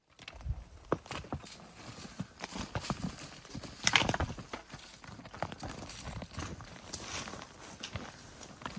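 Horses walk through the dark on an early-morning ride during an archery elk hunt, their hooves giving soft, uneven clip-clop footsteps with occasional louder knocks, close and faint.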